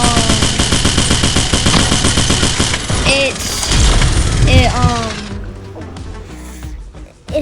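In the mobile shooter Pixel Gun 3D, an impulse minigun fires a loud rapid stream of shots for about five seconds, with whooshing effect sweeps laid over it, before dying down into quieter game noise.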